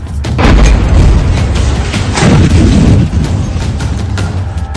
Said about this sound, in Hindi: ऐसा धमाका जिसकी गूंज 450 किलोमीटर दूर राजधानी कीव में भी सुनाई दी।